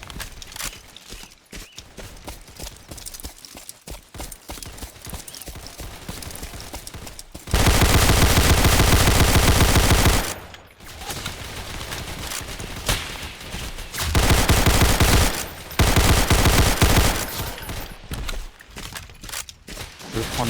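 Rapid gunfire in the Roblox video game, long bursts of loud automatic fire cutting in and out between quieter stretches of scattered shots and clatter, all close and harsh.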